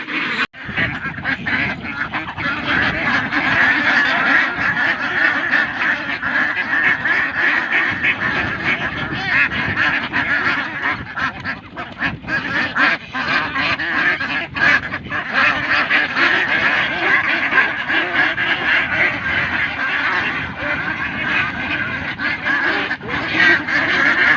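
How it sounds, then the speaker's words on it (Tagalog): A flock of egg-laying ducks on a free-range farm quacks loudly and continuously, a dense chorus of overlapping close and distant calls with occasional honking, lasting throughout. "Ito po yung mga nangingitlog natin na mga itik."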